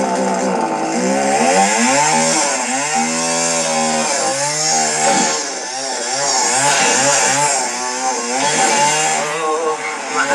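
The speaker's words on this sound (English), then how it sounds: "He's gone in, purchased 3 chainsaws, test them out on a log." Chainsaws roar continuously at full throttle while being tested on a log in a film scene, the engine pitch surging and dipping as they bite into the wood, loud and close throughout.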